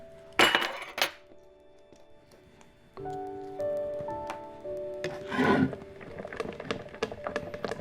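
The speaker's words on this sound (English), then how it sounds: "And just give it a stir." A spoon stirs a coconut yogurt mixture, making scattered clinks and scrapes against the container with quiet gaps between them.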